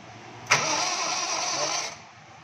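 A car engine with a suspected broken timing belt cranks after stalling on the road, a single burst of fast, hollow, even churning lasting about a second and a half, then stopping.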